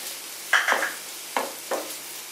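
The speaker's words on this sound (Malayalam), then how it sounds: "എന്നിട്ട് ഇത് മെൽറ്റ് ആകുന്നവരെ ഇളക്കുക." Spatula scraping through egg bhurji as butter melts in the pan, a few short separate strokes over a quiet background, close and moderately loud.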